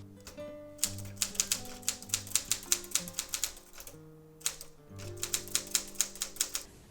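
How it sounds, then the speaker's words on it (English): A typewriter clacks in quick bursts of sharp keystrokes, pausing briefly between runs, with a bell-like ding and carriage sounds amid the rhythmic tapping. "writing on post office receipts with a typewriter."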